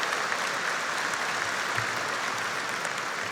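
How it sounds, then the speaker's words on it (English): A commencement audience applauds at a graduation ceremony, dense steady clapping from many hands that fills the whole stretch at an even level. "Give yourselves a round of applause."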